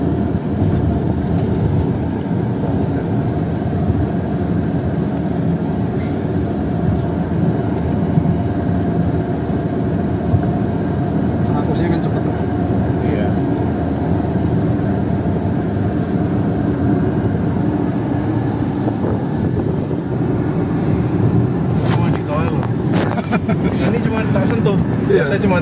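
Chevrolet Captiva diesel car with a Blackcore diesel modification accelerating at highway speed, a steady in-cabin engine and road drone throughout, with people talking inside the car.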